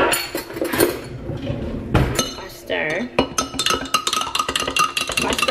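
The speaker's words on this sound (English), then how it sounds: "I stir for a really long time." A spoon stirs honey into iced coffee in a glass, making steady close metallic clinks and taps against the glass that quicken toward the end.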